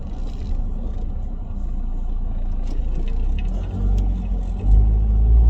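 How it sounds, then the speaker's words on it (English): Steady low rumble of a car driving, heard from inside the cabin on a commute, with a continuous engine and road drone that swells a little louder near the end; no talking. "now that I'm in the car"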